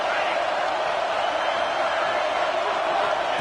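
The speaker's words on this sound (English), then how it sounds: "the crowd really getting into it" Football stadium crowd at a Big 12 Championship game between the Buffs and Baylor roars steadily on third down, a dense, continuous, loud wash of cheering noise.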